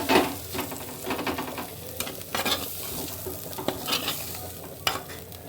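Bitter gourd and eggplant fry in a pan, with a soft steady sizzle broken by irregular scraping stirs, quiet and close with no talking.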